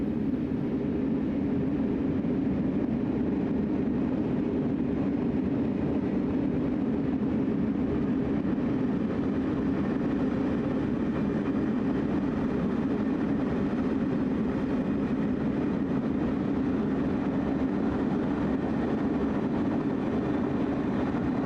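A train in the Train Sim World video game accelerates at full throttle, a steady, loud, unbroken engine and rail rumble that holds for the whole stretch.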